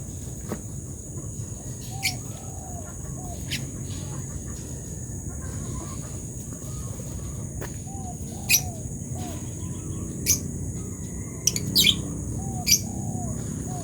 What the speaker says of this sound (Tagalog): Mga happy birds. Lovebird, African lovebird.